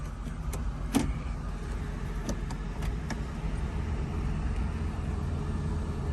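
A 2005 Dodge Grand Caravan with a brake pedal sinking to the floor, shifted into gear and slowly reversing on a hot day, a steady low engine rumble with a few faint clicks and knocks throughout.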